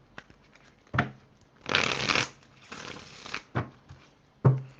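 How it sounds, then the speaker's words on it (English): A deck of tarot-style cards being shuffled at close range on a table, several riffle bursts and sharp card snaps in an uneven rhythm, alone with no talking. "let me shuffle these cards"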